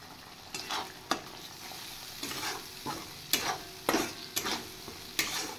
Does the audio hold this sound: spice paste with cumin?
yes